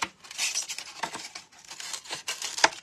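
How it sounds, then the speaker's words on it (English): Scissors snip through craft material in a series of short, close, crisp cuts with irregular rhythm and brief pauses between strokes; no one speaks. "Let me just cut, not using these. I want the other scissors."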